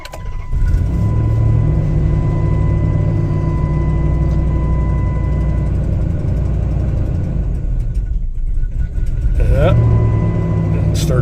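An old beater car engine fires up and runs loudly at a steady idle close by, with a brief hitch near the end before it evens out again.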